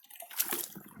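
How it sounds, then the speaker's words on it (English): Muddy water from a gold-panning bucket pours out in a short, close splashing slosh that swells midway and then trails off into drips. "So I'm going to dump this muddy stuff out, just water."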